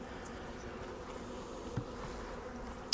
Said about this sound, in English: we have bees up in the top box